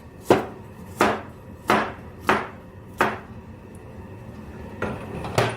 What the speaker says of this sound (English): Asian garlic is here for the meat. I chop it in slices.